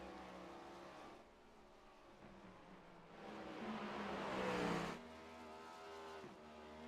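A race car rolls down pit road in a sim racing game during a ButtKicker Cup Series season finale, its engine a steady droning hum that swells and climbs briefly in pitch before settling back to an even drone.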